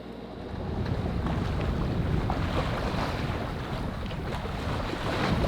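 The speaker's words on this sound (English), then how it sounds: "By 10 PM there was absolutely no wind and we had to motor through the night." A sailboat motoring under engine power through a calm night on the Indian Ocean, giving a steady low engine drone with water rushing along the hull and some wind buffeting, continuous and fairly loud with no talk.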